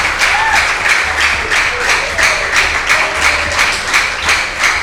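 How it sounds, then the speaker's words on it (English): Students applauding together at a school quiz event in Nigeria, a dense continuous round of clapping lasting several seconds, loud and close. "I would like you to clap, to put your hands together and appreciate one another."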